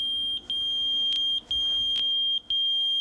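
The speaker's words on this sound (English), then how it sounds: "she picks up the phone and calls his beeper" A pager sounds a series of shrill electronic beeps. Sustained high tones are broken by brief gaps, with a few sharper clicks between them, heard close and clear.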